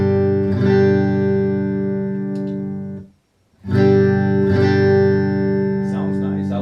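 Sustained electric guitar chords from a Stratocaster through a Kemper amp ring out drenched in reverb, cut off briefly by a pause before another long, shimmering strum fills the space.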